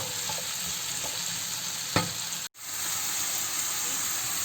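Mushrooms fry in a pan for creamy pasta, giving a steady close sizzle broken by a sharp clink near two seconds and a brief dropout, then the crackle carries on.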